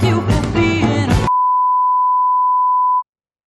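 A steady censor beep, a single pure tone held for about two seconds, cuts off the final sung word of a song, following a short burst of the music itself.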